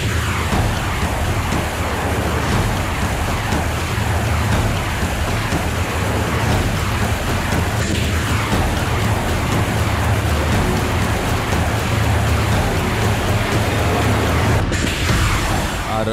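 A Russian multiple launch rocket system fires a rapid salvo during the war in Ukraine, making a loud, continuous rushing roar with deep rumble and a couple of sharper bursts, heard without any voices.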